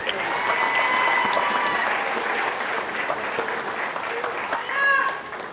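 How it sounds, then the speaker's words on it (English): Audience clapping fills a middle school promotion ceremony, a dense, steady round of applause from a crowd that holds loud and even throughout, with a few scattered cheers rising near the end. "Can we give her another round of applause?"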